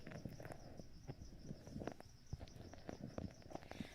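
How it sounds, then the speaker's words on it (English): Crickets chirp steadily and faintly in the background, a thin continuous trill beneath soft close rustling and tapping sounds in a quiet room. "I didn't even realize the crickets were that loud"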